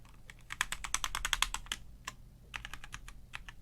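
Rapid bursts of keystrokes on a Velocifire M87 mechanical keyboard for Mac, a close, crisp clatter in two flurries separated by a short pause.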